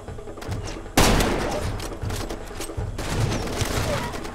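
Gunfire in Far Cry 2, with heavy bursts of repeated shots that crack and boom loudly, the clip opening on one big blast. A louder volley follows near the end, with hard thuds throughout.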